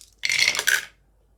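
Several dice clatter and tumble across a hard surface in two quick bursts during a naval wargame of Kaiser-era battleships, close and clear, with no talk.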